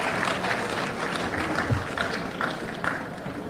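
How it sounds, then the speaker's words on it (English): Audience applause at a ceremony marking the 176th anniversary of the Liberian flag: a continuous, moderate patter of many hands clapping at some distance, steady throughout with no voices on top. "please give him another hand of applause"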